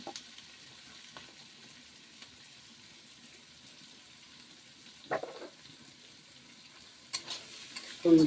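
Onions fry quietly in a pan with a low, steady sizzle, broken by a few louder scrapes and clatters of stirring near the middle and end.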